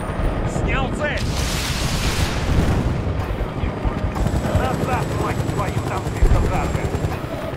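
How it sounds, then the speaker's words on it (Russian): A helicopter in an online multiplayer shooter game whirs steadily amid gunfire and explosions, with players' voices talking over the din throughout. "Все, там кажется вертолет появился."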